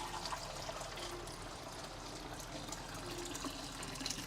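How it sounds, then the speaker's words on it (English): A kitchen sink tap runs and overflows, giving a faint, steady stream of water with a trickling, gushing wash and a few small splashes throughout, no voices. "my sink is like overrunning right now."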